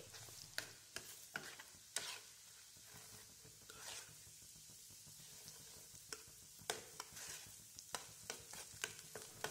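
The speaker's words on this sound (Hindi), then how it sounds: "फिर मैं इसके अंदर ऐड करूँगी सूजी यहाँ मैंने ऑयल की क्वांटिटी थोड़ी ज़्यादा ली है फिर हम इसे भूनेंगे" Semolina roasting in a generous amount of hot oil with green cardamom, a soft low sizzle broken by repeated sharp taps and scrapes of a spoon stirring the pan.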